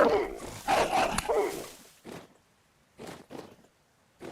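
Barks and low growls from a dog-like creature in the survival game Vintage Story, a dense snarling burst at first followed by three short separate barks, fairly close and clear.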